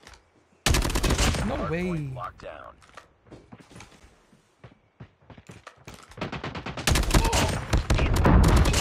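Bursts of AK117 rifle fire in a multiplayer shooter video game, an opening volley of rapid automatic shots, scattered single cracks through the middle, then a long dense fusillade near the end, with game voices and a player speaking between them.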